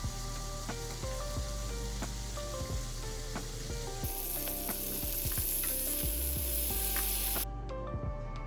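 Bacon fries in a pan with a continuous crackling sizzle, close and fairly loud, with sharp clicks and taps of utensils throughout and a brighter hiss in the latter half, no talk.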